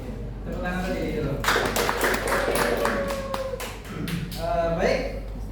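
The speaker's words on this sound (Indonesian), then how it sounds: "Tepuk tangan tadi dulu." A classroom group claps briefly during a microteaching lesson on price indexes and inflation: a short burst of sharp, scattered hand claps that fades out, with talking before and after it.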